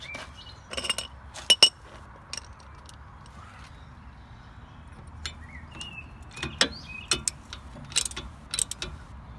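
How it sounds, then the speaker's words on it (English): Metal clinks and taps from a wrench working on a bolt during rear shock absorber replacement on a Land Rover Freelander 2, scattered sharp clicks and jangles over a quiet workshop background, with no talking. "let's get a wrench on that."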